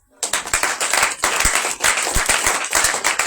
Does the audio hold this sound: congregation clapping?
yes